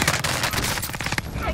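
Dense, continuous automatic gunfire crackles close and loud over a short burst in Call of Duty Modern Warfare on Rebirth Island, with a voice faintly mixed in.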